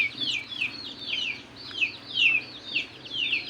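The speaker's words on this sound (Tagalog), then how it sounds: "Mga manok" Chickens cluck in a quick, steady run of bright, repeated calls, fairly close and clear over a faint low background hum.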